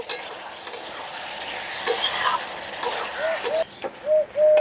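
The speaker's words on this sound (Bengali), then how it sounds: "এখন মশলার সঙ্গে মিশিয়ে নেবো সয়াবিনটাকে" Soybean chunks are stirred into frying masala for a vegetarian soybean dish: a spoon scrapes and turns the mix over a soft sizzle, with a few short squeaky scrapes near the end.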